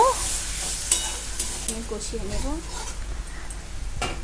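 A spice paste with poppy seeds for rui fish fries in a pan with a little water, giving a soft sizzle with scattered scrapes and taps from stirring. Faint voices or other sounds can be heard briefly partway through.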